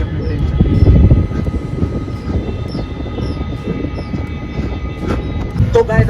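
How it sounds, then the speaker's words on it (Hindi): The Unchahar Express runs along in a steady, dense rumble with rattling clatter and a constant background roar, heard close and continuous with no clear speech. "इधर ही अपनी ट्रेन चल रही है"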